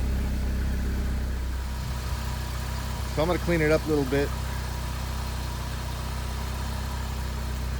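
A Porsche engine idles steadily in a small garage, a low continuous rumble running the whole time beneath a man's brief speech.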